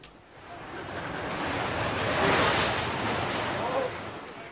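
Atlantic surf churns at Penny Pool on the Cornish coast, a broad, roaring wash of breaking water with wind buffeting the microphone, swelling to a peak midway before easing slightly.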